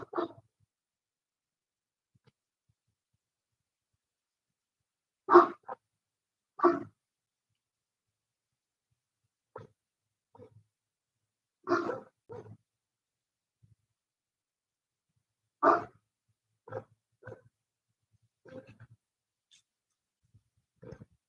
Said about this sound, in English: no barking, honey. No barking.